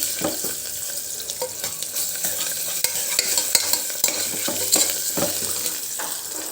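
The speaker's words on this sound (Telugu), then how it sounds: "పచ్చివాసన వెళ్ళే వరకు ఫ్రై చేసుకుందాం" Ginger garlic paste sizzles and fries in a pan for a biryani, a steady close crackle broken by repeated scraping stirs and light clinks of a spoon against the pan.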